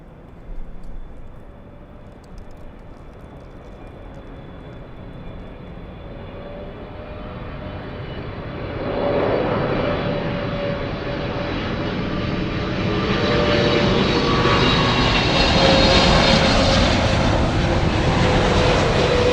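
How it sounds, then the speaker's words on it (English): A Boeing 777 on approach to LAX, crossing the 405, with engine roar swelling from a distant hum to a loud, sustained whine as it passes overhead. "We got the 777 coming in, crossing the 405."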